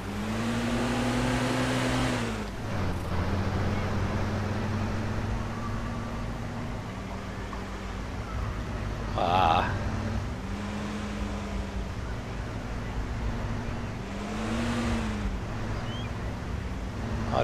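A car driving in the DayZ Namalsk game, its engine droning steadily and rising and falling in pitch as it shifts, with a brief sharper noise midway and a continuous rumble throughout.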